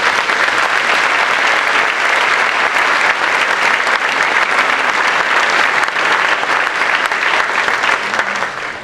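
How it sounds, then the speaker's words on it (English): A university general assembly audience at Emporia State gives long, full applause. The broad, steady clapping holds at an even level for several seconds before tapering off at the end. "Give them a round of applause."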